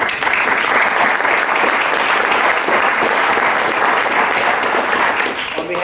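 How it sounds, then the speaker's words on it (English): Loud, sustained applause from a large crowd at a youth soccer club talk, dense clapping that holds steady throughout. "another round of applause for Christina"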